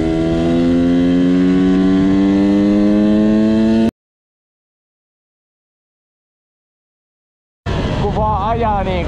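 A motorcycle engine hums steadily at close range with strong, even tones for a few seconds, then cuts to silence before the engine returns with shifting, rising pitch as it rides on; talk is mixed in.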